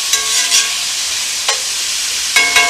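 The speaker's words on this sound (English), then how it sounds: "We got these shrimp cooking." Shrimp fry in a hot pan with a steady, close sizzle, broken by a few sharp clinks and scrapes as they are stirred, with no one talking.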